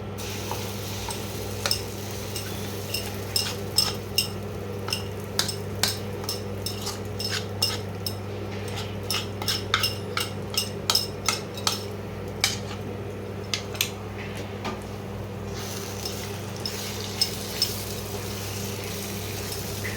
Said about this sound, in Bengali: তেলের মধ্যে ডালটাকে একটু ভাজা ভাজা করে নিতে হবে